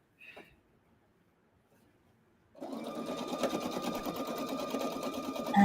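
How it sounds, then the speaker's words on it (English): A sewing machine stitches a pocket onto a tote bag, starting after a brief faint sound and a short pause, then running steadily and close-up with a constant mechanical whir to the end. "So now I'm going to sew this pocket on, and I'm going to sew it around twice."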